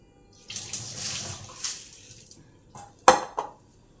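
Soaking water is tipped off sorghum grains in a home kitchen, with short splashing pours coming in uneven bursts, then a sharp clattering knock of a vessel and a final brief trickle.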